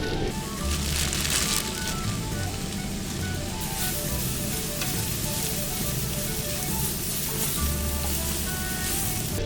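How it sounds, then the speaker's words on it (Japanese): Vegetables and rice noodles sizzle loudly in a frying pan inside a camper van, a constant crackling hiss with occasional scraping stir sounds and a low hum underneath throughout. "それではだいたい火が通ってきたんでビーフン入れて仕上げます"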